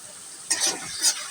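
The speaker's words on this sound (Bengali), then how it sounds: "নেড়ে চেড়ে মশলার সাথে মিশিয়ে নিই" Potatoes being stirred into spice masala for a hilsa curry, giving two short scraping, sizzling bursts over a faint steady fry hiss.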